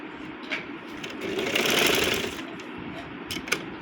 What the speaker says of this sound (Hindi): ट्रिपल सिलाई लगाएं, क्योंकि ये सिलाई इस तरह नीट होती है।